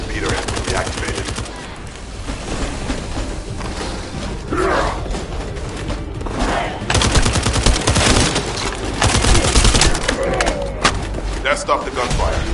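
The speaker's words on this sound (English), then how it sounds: "That stopped the gunfire." Video game battle gunfire, dense bursts of automatic fire and heavy impacts throughout, loud and close, with voices talking over the shooting.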